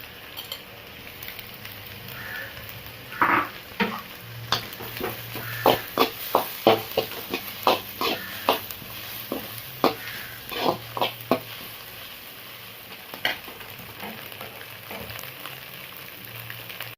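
Rice and fried egg stir-fried in a pan at home, a spatula scraping and clattering in a run of distinct knocks and stirs over a soft steady sizzle, close and moderately loud.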